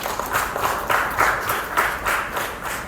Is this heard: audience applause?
yes